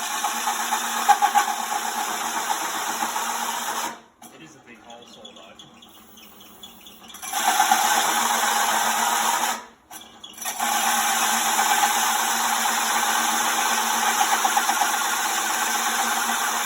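A Holden VL Calais wagon engine runs at a steady, loud idle, cuts out briefly twice and catches again, with a continuous mechanical drone filling the clip.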